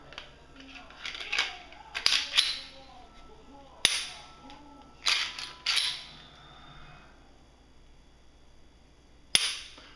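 Dry-fire clicks from a Glock pistol trigger after the slide, barrel and guide rod are reassembled, a handful of sharp close snaps spaced irregularly over quiet handling noise.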